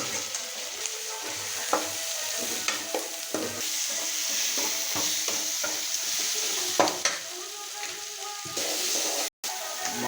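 Red chillies, coconut and tamarind sautéing in a pan for mint chutney, a steady close sizzle broken by repeated scraping stirs, with no voices.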